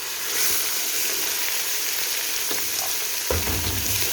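Minced keema with garlic-ginger paste fries in a pan, producing a loud, continuous, close-up sizzling hiss with an occasional stir or scrape, including a low thump near the end.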